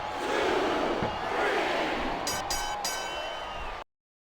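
Arena crowd in the WWE 2K24 wrestling game roars and cheers continuously at loud, steady volume, with a few brief bright bursts near the end before cutting off.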